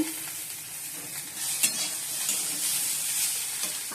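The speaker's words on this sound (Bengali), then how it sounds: "উচ্চ আলু ভাজা বসিয়ে দিয়েছি" Potatoes frying in a pan give a steady, close hiss of sizzling oil, with a few faint scrapes of stirring and no voices.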